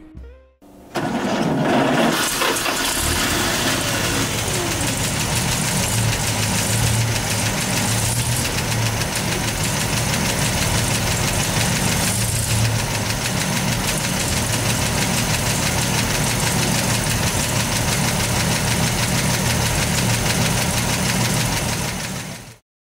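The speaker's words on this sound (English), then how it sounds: "let's start that engine." A 1931 Buick 95 Phaeton engine cranks and fires after a brief pause, then settles into a steady, loud, close idle with a rough knocking rhythm that runs on for about twenty seconds.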